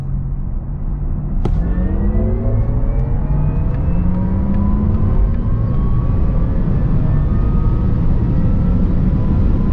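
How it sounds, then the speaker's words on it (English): A Porsche Taycan Turbo S accelerates hard from 100 to 200 km/h. Several motor whines climb steadily in pitch over a loud, constant road and wind roar, heard from inside the car. "Let's now see how fast the Taycan Turbo S goes from 100 to 200."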